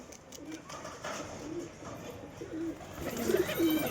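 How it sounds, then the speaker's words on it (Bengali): Pigeons being trained coo and call outdoors as they land, low repeated coos growing louder toward the end over a steady open-air background. "দেখি পায়রাগুলো আগে নামুক, তারপর তোমাদের সঙ্গে আমি ভিডিও কন্টিনিউ করছি।"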